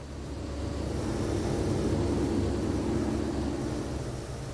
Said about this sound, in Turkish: O uçak geçti.